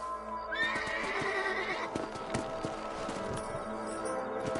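A horse in Red Dead Redemption lets out a loud, high whinny over the steady clatter of hooves and a busy background of ambient noise.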